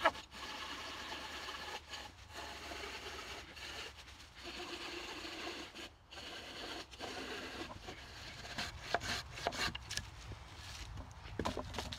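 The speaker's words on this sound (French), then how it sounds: "vous allez voir le temps que je vais mettre pour couper la même section avec une scie" A saw works through a section of wood outdoors in a bushcraft setting, with faint, rasping back-and-forth strokes that come in uneven bursts with short pauses.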